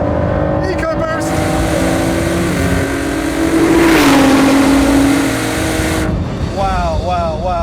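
Ford GT with a 3.5-litre EcoBoost V6 engine accelerating hard, a loud sustained engine roar with rising tone that swells to a peak midway, then eases as another engine's revs climb near the end.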